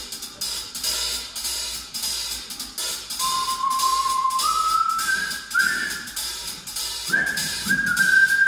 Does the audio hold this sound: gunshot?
no